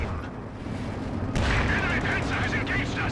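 Anti-tank guns firing in Company of Heroes 2, a 1v1 match, with heavy booming shots and explosions over a rumbling battlefield, one sharp blast standing out midway and a commentator talking over it.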